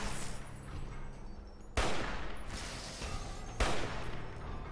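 Gunfire in Fallout: New Vegas: two distinct loud shots about two seconds apart, each with a lingering reverberant tail over a constant background rumble.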